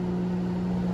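Microwave oven running: a steady, even electrical hum with a constant droning tone, close and uninterrupted, with no speech.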